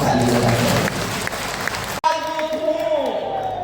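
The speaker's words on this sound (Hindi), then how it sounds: "आप ताली बजाइए।" Audience applause at a Hindi poetry gathering (kavi sammelan) in Pipariya, Madhya Pradesh, a broad dense clapping for about two seconds that breaks off, followed by a voice speaking over lingering crowd noise.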